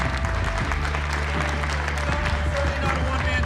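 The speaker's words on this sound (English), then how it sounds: "And just give a big round of applause for Anthony," Applause from an audience at a Boston paintball combine show, a dense steady wash of clapping mixed with crowd murmur and some voices, loud and continuous throughout.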